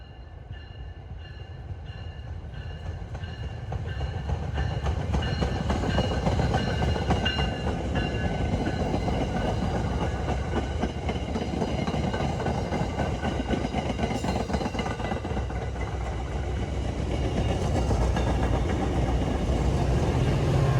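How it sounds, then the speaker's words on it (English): MBTA commuter train on the Rockport line rolling past on the track, a loud steady rumble with rhythmic wheel clatter that swells as it nears and keeps going for about twenty seconds. "We see the corresponding inbound train head back to Boston"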